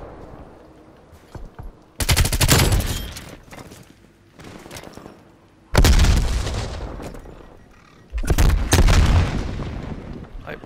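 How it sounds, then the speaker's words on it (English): Frag grenade blasts in the video game Black Ops Cold War, three loud booming explosions spaced a few seconds apart, each with a long rumbling tail, separated by quieter gaps of faint game noise. "What the hell uses frag grenades?"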